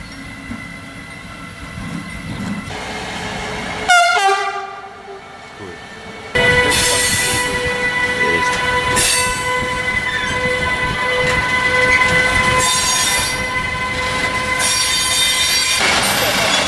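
A train rolls along railway tracks near a station in the Balkans where lines split toward Split and Rijeka, loud and close, with wheel squeal, a horn-like tone and continuous rumbling.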